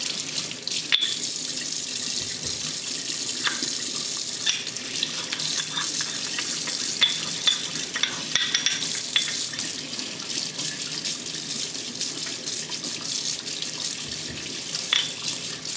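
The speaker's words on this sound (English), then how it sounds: "So you just rub it together like this." A small rock is rubbed back and forth across a coticule whetstone to flatten it, making a steady, close, wet scraping hiss with faint grinding ticks that continues without pause.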